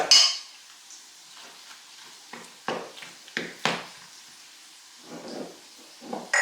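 Beef meat mixture tipped into a pan with onion: a few close clattering scrapes and knocks of utensil on pan, then a soft sizzle, with quiet gaps between.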